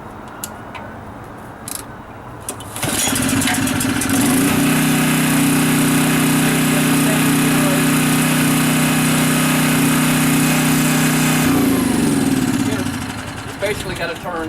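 A small generator engine runs at slow RPM while still producing electricity, giving a steady, loud mechanical drone that starts abruptly, holds for about nine seconds and then winds down, with a few faint noises before it.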